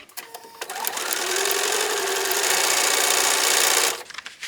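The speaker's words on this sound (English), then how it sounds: "Ready to sew." A sewing machine stitches pieces of a Robo Confetti quilt pattern, a steady continuous motor whir running close and loud for about three seconds, starting and stopping cleanly with no talk over it.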